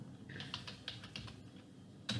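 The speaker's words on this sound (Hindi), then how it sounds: "कमांड करने के लिए आप टाइप करेंगे" Computer keyboard typing while entering an SQL command: a quick run of separate clicking keystrokes, close and fairly quiet, with a louder final key press.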